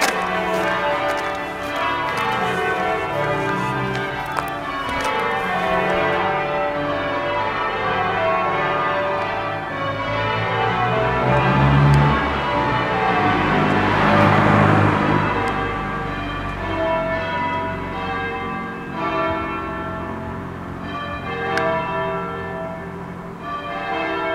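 Church bells pealing at Ossett church, a steady cascade of overlapping bell strikes ringing in rhythmic changes, loud and resonant throughout with no talking.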